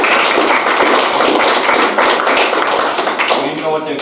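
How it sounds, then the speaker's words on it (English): A lecture audience at the 1991 Solar Energy Expo & Rally breaks into dense, continuous applause for the event staff and volunteers. The clapping is loud and sustained throughout. "I would like to give them a big round of applause"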